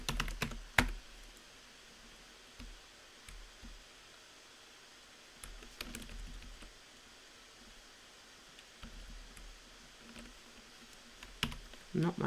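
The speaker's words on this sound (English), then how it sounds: "I can't type properly tonight" Intermittent keystrokes on a computer keyboard during late-night programming work, scattered sharp clicks and short bursts separated by quiet stretches over faint background noise and rustling.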